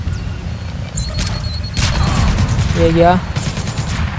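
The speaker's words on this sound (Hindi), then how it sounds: "और गोलियाँ चल रही हैं" Gunfire in the Splinter Cell Blacklist video game, muffled shots and booms over a steady low rumble of game ambience, with someone talking briefly over it.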